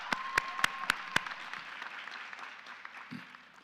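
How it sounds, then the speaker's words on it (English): A few sharp, close hand claps ring out at a graduation ceremony, then give way to fainter, scattered applause from the crowd that slowly tapers off. "Give yourself a round of applause again."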